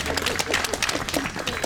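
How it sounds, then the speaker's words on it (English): Audience applause at a Colonial Williamsburg talk: a dense, steady patter of many hands clapping at medium distance, continuing evenly and without speech over it. "Round of applause for the lady in the grassy mezzanine."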